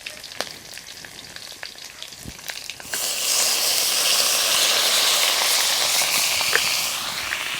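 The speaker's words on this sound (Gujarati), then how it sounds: "હવે નાખીએ આપણે ડુંગળીનો વઘાર લેવી." Onions drop into hot oil for tempering during village cooking of dudhi dhokla, bursting into a loud, steady sizzle and hiss that follows a few seconds of quieter, crackling frying.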